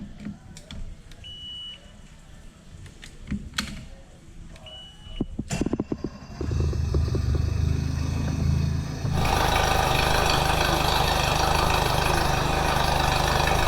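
Quiet clicks and short beeps lead into a newly installed outboard boat motor starting up and running steadily nearby, its loud, constant drone stepping up further partway through as it is throttled.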